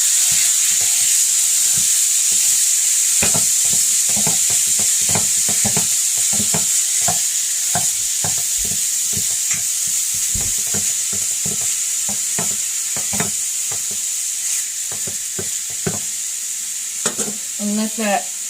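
Ground beef fried in a pan and broken up with a utensil, heard as a constant high sizzle under a string of rapid scraping, tapping strokes that keep an irregular rhythm, then a brief rattle near the end.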